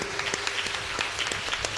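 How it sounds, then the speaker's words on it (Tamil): Congregation in a church in Valliyur applauding together, a dense, steady wash of hand clapping with sharp individual claps standing out through the whole short stretch, no voices over it. "ஒரு முறை கை தட்டி ஆண்டவருக்கு நன்றி சொல்லுவோமா?"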